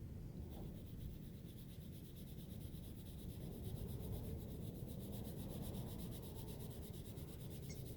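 Colored pencil shading over marker on paper: a soft, continuous rubbing scratch from steady back-and-forth strokes, close and very quiet, with no voices.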